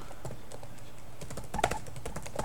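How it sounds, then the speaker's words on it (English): Close keyboard typing, right next to the microphone, lands as scattered clicks and taps with a sharper cluster of keystrokes midway and no talking. "it'll be very loud because I'm typing probably right next to the microphone"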